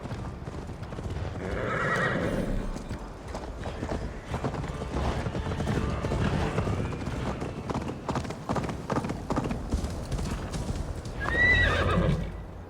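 A horse gallops with rhythmic clip-clop hoofbeats in the Viking-era video game Assassin's Creed Valhalla, with a loud whinny near the start and another near the end over the steady running.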